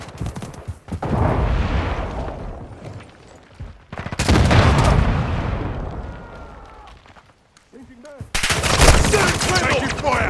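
Heavy gunfire rattles in Call of Duty MW2, with dense bursts of rapid shots separated by brief lulls, loud and close.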